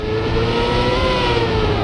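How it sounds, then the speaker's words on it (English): Racing car engine in Trackmania, revving steadily with a harsh, drawn-out tone during a botched gear change, loud and continuous with no pause. "the bad gear change will sound like so horrible"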